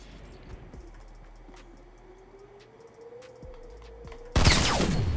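Gunfire from the battle royale video game Fortnite, a pump shotgun followed by an assault rifle: scattered faint shots over a steady game hum, then a loud burst near the end.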